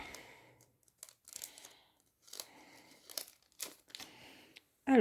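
Packs of One Piece trading cards are torn open, giving short bursts of crinkling, crackling foil wrapper spaced by brief pauses, close and fairly quiet, with a louder rustle at the end.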